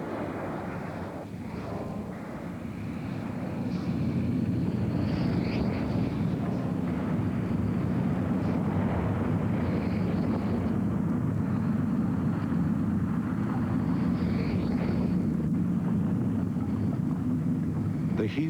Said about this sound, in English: First, an explosion, greater than all the nuclear bombs in the world.